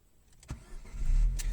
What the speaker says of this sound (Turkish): Şimdi arabamızı çalıştıralım.